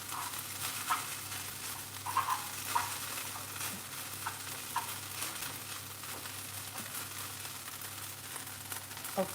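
Singapore noodles toast in a pan over high heat, giving a steady low sizzle with soft scraping and a few faint clinks, fairly quiet and continuous without talk.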